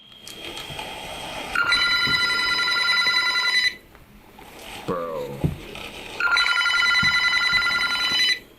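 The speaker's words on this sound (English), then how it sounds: "The phone is off the hook already, but it rings steadily." An old telephone bell rings in two long, loud metallic bursts separated by a quieter gap, with a brief voice and some clattering between them.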